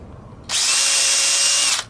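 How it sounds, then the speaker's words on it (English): Power tool sanding flaking paint off a scooter's corroded aluminum CVT cover, a loud steady high-pitched whir that starts abruptly, holds for over a second and cuts off, close to the mic with no talk. "CVT cover needs to be sanded down and repainted."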